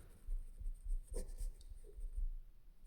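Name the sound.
writing a math solution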